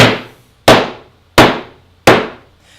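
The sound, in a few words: hammer striking wood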